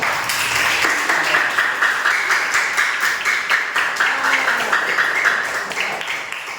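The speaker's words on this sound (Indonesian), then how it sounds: "Tepuk tangan dulu, tepuk tangan." A classroom of students applauding together, steady, dense clapping that holds for several seconds before easing slightly at the end.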